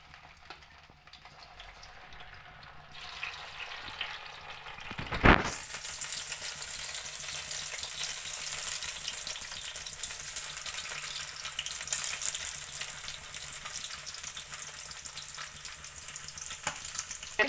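Potato chips dropped into hot oil, quiet at first then a sudden splash and a steady bubbling sizzle that continues, with no talking.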